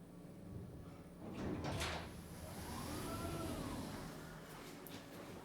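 Wonky doors of a Schindler 3300 XL elevator in a storage building slide open with a soft rumbling whoosh and a rising-falling mechanical whine, fairly quiet and steady with no talking.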